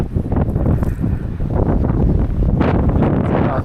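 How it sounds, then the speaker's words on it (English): Strong wind buffets the microphone outdoors among rows of plants in a garden field, a continuous loud roar with gusts rising and falling throughout. "That last part, man, that is windy."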